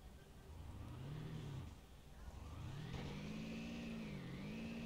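A quad bike engine in the video game Miscreated revs up and down, its pitch rising and falling as the vehicle drives, loud and continuous throughout.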